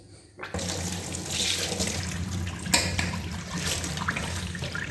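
Tap water runs into a kitchen sink and drains freely down a just-unclogged pipe, a close, steady splashing rush that starts abruptly and carries on without speech.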